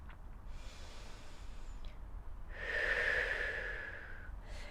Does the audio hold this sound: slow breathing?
yes